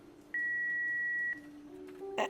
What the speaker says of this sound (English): Please leave a message after the beep